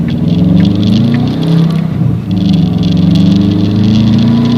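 A 2011 Subaru WRX with a manual gearbox and a rattle accelerates quickly, its loud, close engine rising in pitch. There is a brief dip near the middle, as if from a gear change, and then it climbs again.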